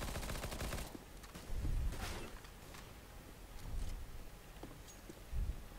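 Gunfire in the video game CS:GO during a round on Mirage: scattered, fairly faint bursts of shots and rattling fire spread across several seconds, with no voices over them.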